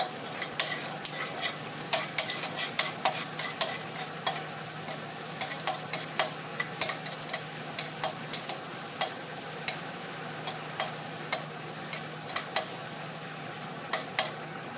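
Garlic stir-fried in a pan until golden, a faint sizzle under a steady run of sharp, close clicks and scrapes as a utensil strikes the pan again and again.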